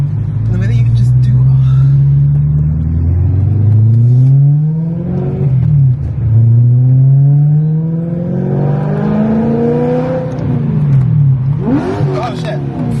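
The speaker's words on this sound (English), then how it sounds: "Aren't the downshifts just like crazy?" A BMW M car's engine revs up and blips hard on downshifts, loud and close from inside the cabin, with repeated rising and falling pitch sweeps across about thirteen seconds.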